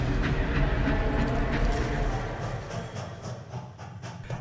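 A train carriage clatters steadily along the rails on a journey through a remote corner of the country, a loud, continuous rumble with rhythmic clicks from the wheels and a gradual ease in intensity.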